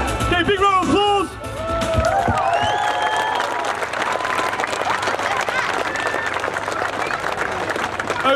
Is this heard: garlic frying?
no